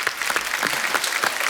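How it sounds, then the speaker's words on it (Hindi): Studio audience applause on The Kapil Sharma Show, a dense, steady patter of many hands clapping throughout, fairly loud and close, with no voices over it. "जोरदार तालियां होनी चाहिए।"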